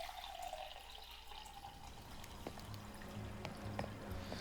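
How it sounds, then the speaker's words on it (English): Water poured into a glass, a soft trickling and filling sound with small drips, faint and close, rising slightly toward the end. "I'm just pouring myself some water."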